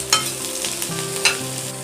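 Roughly chopped onions sautéing in a pan for egg gravy, a close, bright sizzle with two quick stirring scrapes over a short stretch, no talking.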